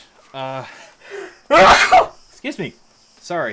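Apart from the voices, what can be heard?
sneeze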